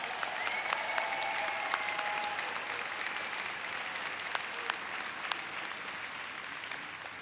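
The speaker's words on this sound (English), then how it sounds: "A big round of applause for Dr. Wentz." Warm, sustained audience applause for a company founder at a corporate science presentation, many hands clapping at moderate volume in a large hall, steady for about seven seconds with a couple of whistles and no speech.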